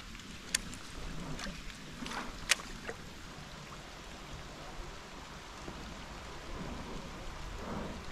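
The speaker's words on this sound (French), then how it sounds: "Ah mais c'est que ça pleut vraiment en plus quoi" Rain falls on a river around a drifting boat, a soft continuous patter with a few sharp taps and knocks scattered through it, fairly quiet and without talk.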